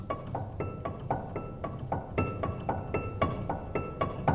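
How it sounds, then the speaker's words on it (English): Notes on a worn, badly kept piano with two of the strings muted by hand, struck in a quick, even run of dull, damped thuds, close and unaccompanied. "this is me muting 2 of the strings and then playing a 3rd note that's not muted"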